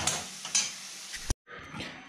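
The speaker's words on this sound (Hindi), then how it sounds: "तो मैंने पानी डाल दिया," Water poured into a pan of frying spices, heard as a close, hissing sizzle with stirring scrapes that cuts out sharply partway through, then a softer sizzle returns, with no talk.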